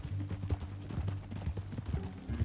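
Horse hooves clip-clop in Red Dead Redemption 2 as a faint, steady rhythmic patter of hoofbeats on the ground, with no speech.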